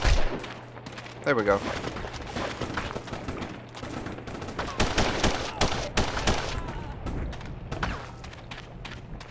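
Bursts of gunfire from the Punisher video game, with several sharp shots and short volleys fired at irregular intervals, sitting close and loud while someone talks over parts of it.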